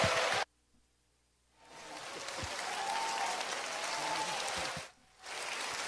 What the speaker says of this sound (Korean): 우리 김용희 선교사님 나오실 때 박수로 하나님께 영광 돌리시고